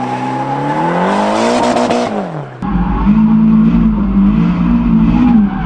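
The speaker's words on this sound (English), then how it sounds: "We bought the drift car. I started learning to drift." A drift car drifts, its engine revving hard with rising and falling pitch before a brief drop and a renewed steady high rev, tires squealing throughout at close range.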